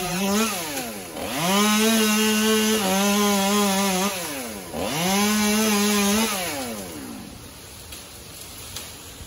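Husqvarna 266 chainsaw bucking wood during a backyard tree removal, engine revving up into two long loud cuts with a steady bogged tone, easing back between them and idling down at the end; no talk.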